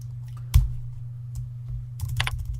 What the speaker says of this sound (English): Oops, I am not doing well with typing today.